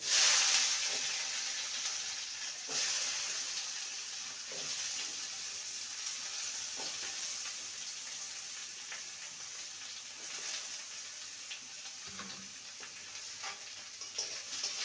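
Pieces of kakrol (spiny gourd) and potato fry in oil with tempered spices, producing a soft continuous sizzle and hiss with occasional light stirring taps, quiet and steady, with no talk.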